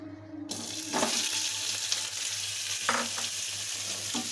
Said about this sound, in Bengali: এবার আমগুলো কড়ার মধ্যে দিয়ে দেব